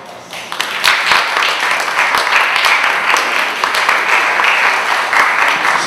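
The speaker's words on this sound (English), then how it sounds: "a big round of applause to show our appreciation" Sustained audience applause at a university engineering lecture, a dense, steady wash of many hands clapping that stays loud and even from start to finish with no talk over it.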